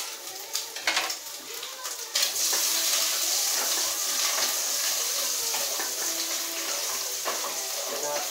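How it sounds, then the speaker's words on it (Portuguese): Chopped onion hitting a hot pan and frying, a bright steady sizzle that jumps up loudly and then holds for several seconds, with a few clinks and stirring noises before it starts. "Vou dar uma fritadinha."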